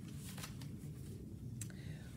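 Bone and Curio oracle cards being shuffled softly, faint papery swishes and flicks over a low steady background hum.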